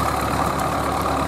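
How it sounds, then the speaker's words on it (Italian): A vintage 1950s–80s Fiat tractor engine at a ploughing festival, a steady, close, loud idle with a continuous low rumble and no pauses. "Che rombo! Motori Fiat, trattori Fiat degli anni 50, 60, 70, 80, motori indistruttibili"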